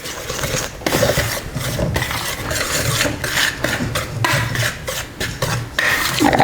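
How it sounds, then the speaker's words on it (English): Dry ingredients for gingerbread pancakes are stirred in a bowl, producing a continuous close scraping and rubbing with rhythmic strokes of the utensil against the bowl. "once you have all of your dry ingredients together, you can go ahead, just mix them up a little bit"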